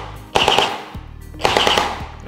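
A Jinming J9 M4A1 water gel blaster toy fires two loud, close bursts of rapid automatic shots with a mechanical rattle, separated by a brief pause.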